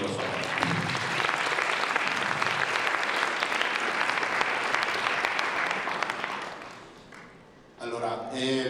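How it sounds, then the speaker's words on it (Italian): Loud, sustained applause from a crowd for several seconds, fading slightly before a voice begins speaking near the end. "Io un applauso intanto sulla fiducia di Raffaele."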